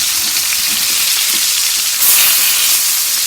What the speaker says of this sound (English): I'm going to go ahead and flip my salmon now.